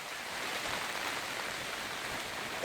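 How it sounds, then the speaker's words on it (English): Steady, dense hiss of heavy rain pouring down outside a polytunnel, a constant wash of noise with no voices. "it's chucking it down with rain outside."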